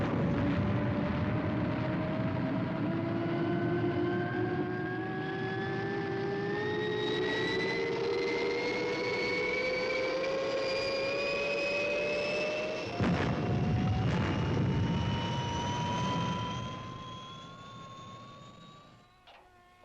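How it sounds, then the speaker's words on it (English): Fireball XL5 spaceship engines roar at liftoff in a loud, sustained blast with several whining tones climbing steadily in pitch, a sharp burst partway through, and a fade at the end. "All systems go, Matt. Clear for liftoff, Steve."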